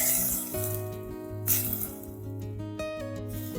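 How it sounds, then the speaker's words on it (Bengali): Onion paste sizzles and fries in a pan for a kochur loti curry. Steady frying crackle sits under faint background music, with a few louder stirring scrapes. "পেঁয়াজ বাটা দেওয়ার পর খুব ভালো করে নেড়ে চেড়ে ভেজে নিলাম"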